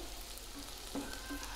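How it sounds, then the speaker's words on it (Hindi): Onions frying in a pan for a Punjabi dhaba-style chicken gravy, giving a steady, close, low sizzle with a couple of soft stirring scrapes near the end. "ये देखिए प्याज हमारे ब्राउन हो चुके हैं, फ्राई हो चुके हैं अच्छे से"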